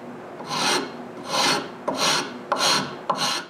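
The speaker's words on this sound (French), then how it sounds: "J'utilise une lime carrée pour les coins" A square file rasps into the inside corners of a wooden piece in a workshop, making five separate rough strokes in a steady rhythm, close and clear, with no voices.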